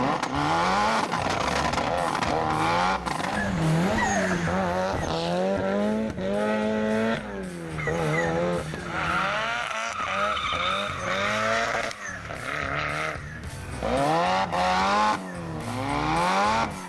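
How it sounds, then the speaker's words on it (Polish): A Mitsubishi Lancer race car with sport differentials lapping the Modlin track, its engine screaming up and down through the gears with repeated shifts and tire squeal, loud and close throughout. "Subaru jedzie na szutry, a Grzesiek poupala potwora na torze Modlin"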